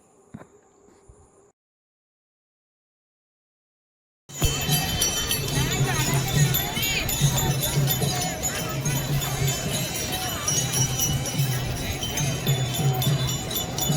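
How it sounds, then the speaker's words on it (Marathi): A large crowd of pilgrims fills the Chandrabhaga riverbank at Pandharpur, a steady dense hubbub of many voices with faint clinks, loud and continuous after a silent opening. "धोंड्याचा महिना असल्यामुळे भाविकांची खूप गर्दी होती।"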